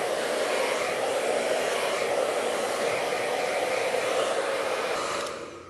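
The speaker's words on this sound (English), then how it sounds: "now I'm blow drying this hair" A hair dryer blows steadily on a child's hair after detangling, a loud constant whoosh held for several seconds before tapering off at the end, with no voices.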